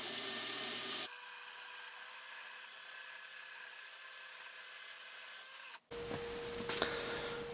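Harsh, steady scrubbing of a wire brush on an old scrap-yard bench vise being cleaned up for a rebuild, a continuous gritty rasp that drops briefly near the end before resuming with sharper scraping strokes.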